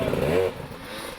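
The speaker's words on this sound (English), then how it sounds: "But Bolton is on the throttle and letting it all hang out." Enduro motorcycle engine revving hard on rough, aggressive terrain at the 2009 Erzberg Rodeo, a loud rising whine that drops off abruptly within about a second, leaving engine rumble and clatter.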